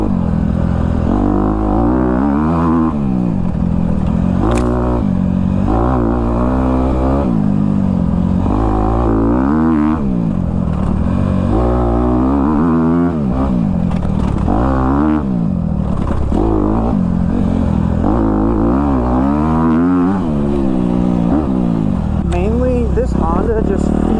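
A Honda CRF250R dirt bike engine is heard through a ride, revving up and down in repeated surges that stay loud and close throughout, with the motor pitch rising and falling.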